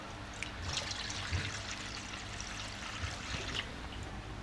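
Water pours steadily into a pot to boil sago, a continuous close trickling stream with a soft splash over faint kitchen background, no talk.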